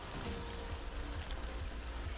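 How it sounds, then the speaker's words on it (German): Light hail of tiny pellets patters steadily on an outdoor surface on the Continental Divide Trail near Bannock Pass, a dense close-up rain-like ticking with no voices. "Jetzt dort sogar ganz leicht hageln."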